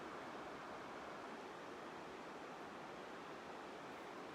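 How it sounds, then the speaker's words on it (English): Water flows out of a creek outlet near Isaac Creek on the South Boundary Trail, a steady, faint, rushing wash that holds an even level throughout with no talking. "Outlet's flow coming off this thing now"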